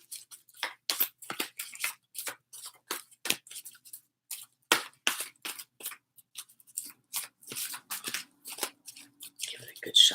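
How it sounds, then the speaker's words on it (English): A deck of angel oracle cards is shuffled by hand, giving a long run of quick, crisp riffling and slapping bursts, close and moderately loud. There is no speech over the shuffling. "Give it a good shuffle."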